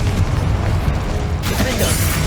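Fire and blasting spell effects from Hogwarts Legacy, Incendio and Confringo, erupt in a dense, continuous roar of bursts and booms, loud throughout with a brighter crackling blast near the end.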